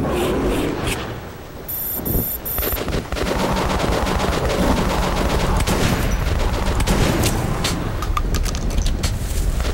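Rapid, loud bursts of machine gun fire in Metro Last Light, dense rattling volleys continuing for about ten seconds with scattered impacts and game noise around them.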